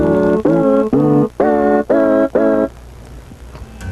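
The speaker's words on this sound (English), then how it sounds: "it will now play it anywhere on the keyboard that I place my hand" A sampled voice plays six short sustained notes in a row on a keyboard, each held about half a second, stepping through different pitches, then silence.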